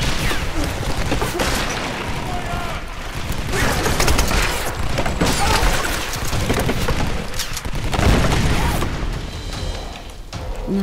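Gunfire in the video game Tomb Raider (2013), dense bursts of shots and booming impacts overlapping almost continuously, loud and close, with little pause between volleys.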